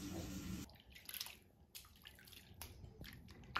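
Water splashing and trickling during a bath for a rescued kitten, a steady wash at first, then softer drips and small splashes, fairly faint.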